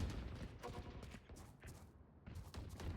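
Rapid gunfire from a shooter video game, dense bursts of sharp shots in quick succession with a brief lull before the firing resumes.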